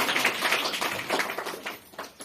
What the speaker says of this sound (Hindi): एक बार उस देवता के लिए ताली बजाओ कि आपको दिया है।